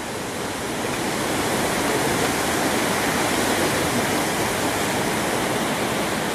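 Sea waves below Uluwatu temple in Bali produce a loud, even, continuous roar of surf, with no separate crashes standing out and no voices.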